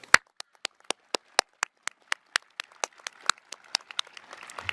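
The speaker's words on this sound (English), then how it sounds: "Please join me in applauding their fine work." Steady rhythmic clapping at a college commencement ceremony for a school of arts and communication, starting as sparse individual claps and thickening into a fuller round of applause from the audience.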